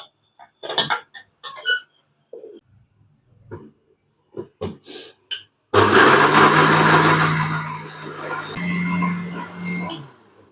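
Mixer grinder blending adai dosa batter in a home kitchen, a loud steady whirring roar that starts abruptly after a stretch of talking and clattering, briefly dips, then carries on to the end.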